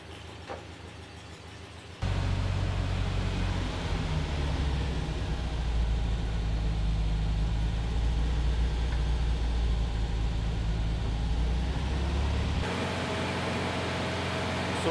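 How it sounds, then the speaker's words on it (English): Porsche 356 engine with Solex 40P11 carburetors, held at raised revs by a stick wedged on the gas pedal; a loud, steady low drone that jumps up abruptly and holds for about ten seconds before dropping back to idle. "we're gonna put the stick on the gas pedal and rev it up a little bit"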